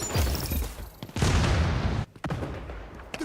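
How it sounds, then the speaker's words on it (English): Bursts of game gunfire and blasts in the shooter XDefiant, with a flashbang grenade going off among them: loud, sharp, booming reports separated by short gaps and ringing tails, no voices. "Using flashbang."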